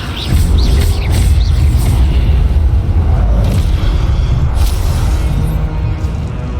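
A loud, sustained rumbling roar from the Incendio fire spell blasting in the Hogwarts Legacy video game, deep and boomy with a few brief higher crackles on top.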